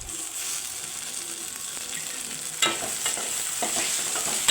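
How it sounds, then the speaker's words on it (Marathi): Onion frying in a pan with garlic and chili, a steady broadband sizzle with a few louder stirring scrapes and clinks toward the end, close and alone with no talk. "कांदा चांगला परतून घेऊ आपण चांगला"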